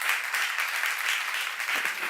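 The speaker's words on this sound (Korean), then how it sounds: "믿는 사람만 박수해봐요" A church congregation applauds during a sermon, a steady dense clapping that holds evenly for the whole two seconds without talk over it.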